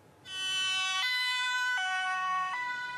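An ambulance siren wails on its way to an emergency, a two-tone pattern alternating high and low pitches at a slow, even rhythm, loud and close.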